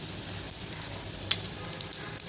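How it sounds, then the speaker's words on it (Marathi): Cumin seeds sizzle in hot ghee in a heated kadhai, a soft, steady frying crackle with a few small pops, quiet and alone. "आता कढई चांगली तापली आहे. त्यात मी जिरं टाकते."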